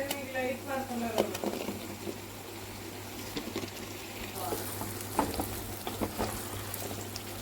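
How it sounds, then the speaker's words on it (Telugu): Ginger garlic paste frying in a pan for a drumstick and prawn curry, a soft steady sizzle with occasional stirring scrapes, faint beneath someone talking throughout. "ఈ అల్లం వెల్లుల్లి పేస్ట్ని బాగా పచ్చివాసన పోయేంత వరకు ఫ్రై చేసుకుందాం"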